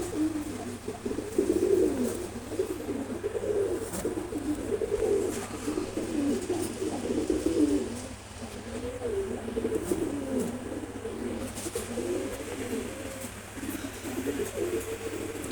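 Giribaz pigeons coo continuously nearby, a low, rolling burble of overlapping calls that carries on without a break, with faint background noise and no talk.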